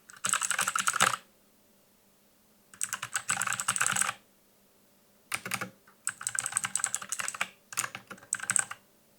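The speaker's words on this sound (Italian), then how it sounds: "Sentiamo anche il rumore della tastiera." Fingers clatter over a computer keyboard in four separate bursts of rapid typing with quiet pauses between, captured close through a wireless clip-on microphone with noise reduction switched on.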